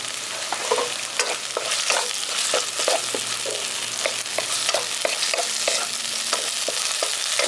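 Chopped tomato fries with onions in a pan for egg masala curry, a continuous close sizzle broken by rhythmic scrapes of a spatula stirring through the whole stretch.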